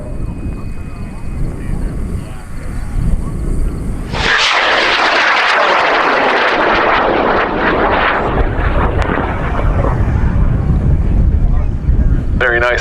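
At the Argonia, Kansas Airfest, a high-power rocket on a full M motor with a five-second burn ignites in a sudden loud roaring blast that slowly fades as it climbs, with wind noise and people talking around it.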